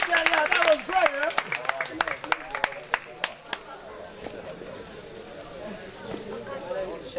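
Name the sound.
audience clapping for speakers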